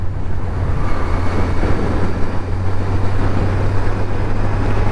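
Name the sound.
Kawasaki Z900 motorcycle riding in sports mode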